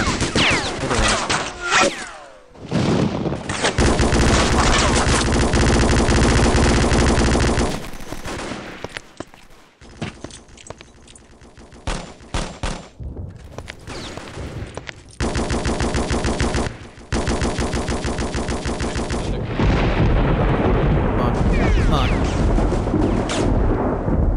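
Bombing run explosions and rapid machine-gun fire in the Vietnam War shooter Vietcong, loud dense bursts of gunfire and booms in long stretches broken by brief lulls, with no talk.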